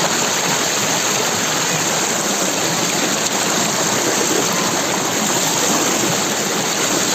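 Santo Lucia Falls, a waterfall feeding a stream, roars steadily as a loud, dense wash of falling water that fills the whole stretch without pause or voices.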